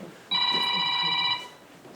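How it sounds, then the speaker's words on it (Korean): A telephone rings once with a sustained electronic bell tone lasting about a second, fairly loud in a room, with faint murmuring before and after. "전화 왔어요."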